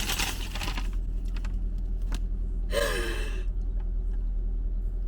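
One sharp, close gasp from a person in a quiet indoor room, a quick rushing intake of breath standing out briefly against faint background ticks and taps.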